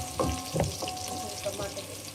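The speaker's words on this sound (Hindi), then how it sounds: "ये मैंने 2 टमाटर है, मैंने इसका पेस्ट बना के रखा था, ये भी इसमें चला जाएगा।" Tomato paste goes into a pan of sizzling peas masala, a steady frying hiss with a few soft wet splutters and stirring scrapes, close and continuous with no talk.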